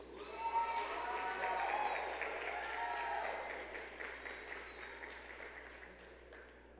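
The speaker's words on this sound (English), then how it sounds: "Please give a round of applause to Mr." Audience at a school spring concert at an academy applauds a student soloist, a steady wash of clapping with a few brief voices and whistles on top, fairly distant and holding level before easing off.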